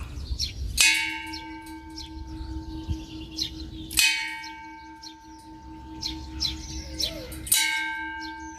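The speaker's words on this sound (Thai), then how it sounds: "มีเคาะระฆังด้วยตรงนี้เดี๋ยวผมขออนุญาต เคาะระฆังนะครับ" A temple bell at Wat Sukhawadi in Sung Noen, Nakhon Ratchasima, is struck three times at roughly three-second intervals. Each strike rings out loud and close with a long sustained hum, while birds chirp faintly in the background.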